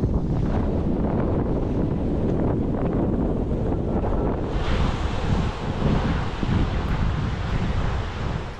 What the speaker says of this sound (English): So far, it's all right when I'm sheltered from the wind, but when it becomes more open, it's a bit of a problem.